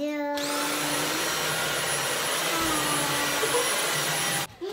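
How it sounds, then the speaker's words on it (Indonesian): A Dyson V7 cordless stick vacuum cleaner switches on with a short rising whir, then holds a steady, loud, high-pitched motor whine close by before cutting off at the end. "sekarang aku coba si vacuum cleaner ini"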